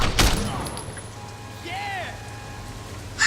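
Gunfire in the video game Sleeping Dogs, a sharp close shot burst at the start over a steady noisy game soundscape with tonal effects and ambient rumble.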